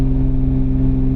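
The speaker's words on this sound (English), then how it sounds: "I want to hear that exhaust roar." A 1000hp 9ff Porsche Turbo engine drones loud and close in a steady, even roar with a strong low hum, holding without any clear rise or fall in pitch.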